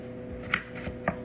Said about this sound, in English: Almost done chopping up these potatoes.